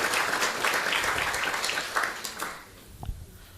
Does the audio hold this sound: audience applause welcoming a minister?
yes